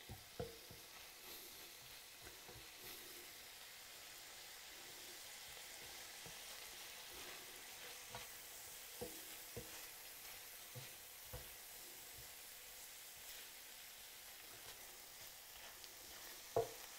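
Ground beef browning in a pan, a soft continuous sizzle under scattered scraping taps of a utensil breaking up and stirring the meat, fairly quiet with no speech.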